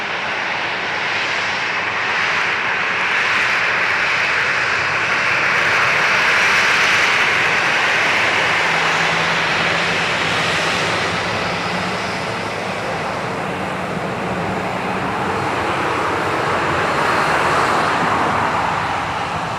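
A plane passes at Dublin Airport, its engines a loud, steady roar that swells and lingers for the full stretch with no voices over it.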